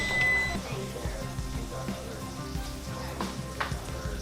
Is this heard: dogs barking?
no